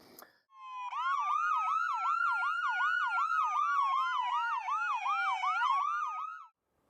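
Calgary EMS ambulance siren on its wail tone, cycling steadily up and down in smooth repeated sweeps, loud and clear for about six seconds with no talk.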